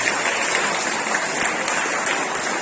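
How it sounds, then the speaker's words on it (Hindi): Loud, dense applause for schoolchildren at a school Independence Day function, sustained and even throughout without pause. "जोरदार ताली एक बार"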